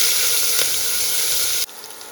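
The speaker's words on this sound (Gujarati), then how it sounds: "આદુ લસણ સરસ તતડાઈ જાય" Ginger garlic paste and asafoetida crackle in hot oil for a dal pakwan tempering: a loud, dense, continuous sizzle close up that cuts off abruptly near the end, leaving a quieter hiss.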